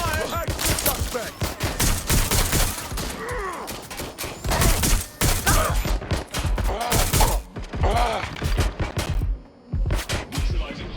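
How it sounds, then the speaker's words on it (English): Rapid bursts of gunfire in Watch Dogs Legion crackle through a tense firefight, dense volleys and single shots stacking up loud and close, with shouted voices and groans mixed in among the shooting. "Shots fired!"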